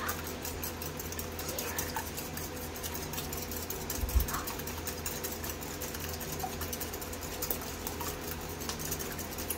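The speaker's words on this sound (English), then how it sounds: "No, my plug-in handheld mixer. Just gonna mix these up real good." Plug-in handheld electric mixer whirring steadily at moderate volume as it mixes ingredients in a home kitchen, a continuous motor hum with slight rattling and no talk.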